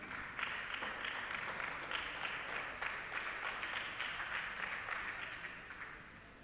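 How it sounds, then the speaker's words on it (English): Audience applause for a young contestant at a children's spelling bee final in Kaduna State, a steady wash of many hands clapping that fills the room at even strength and tapers slightly at the end. "A round of applause to her"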